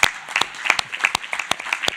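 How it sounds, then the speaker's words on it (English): An audience at an advisory board meeting applauds, scattered claps overlapping in a moderate, steady patter of a mid-sized room crowd. "I think we clap for Sarah from UNESCO."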